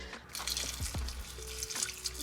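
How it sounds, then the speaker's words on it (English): Water poured onto a house plant inside a grow tent, with soft splashing and dripping into the soil and pot, close and fairly quiet, running steadily for about two seconds with no talking. "Okay, let's water this."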